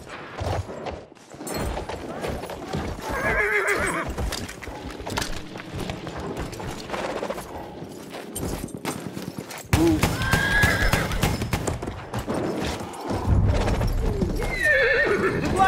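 A horse in the Battlefield 1 video game gallops with steady clip-clop hoofbeats and neighs loudly several times over a busy battlefield din, with a voice talking at moments.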